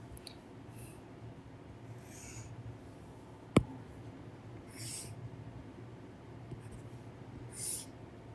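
Faint pen strokes scratch across a writing surface as waveforms for a power electronics exam problem are drawn, with a sharp single click partway through and soft intermittent scribbles against a quiet background hum.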